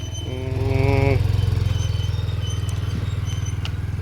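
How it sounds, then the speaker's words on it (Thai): Farm tractor engines pass by with a steady, loud low rumble and a rhythmic engine pulse that swells and then holds, with a brief squeal early on and no talk. "รถไถทั้งนั้น"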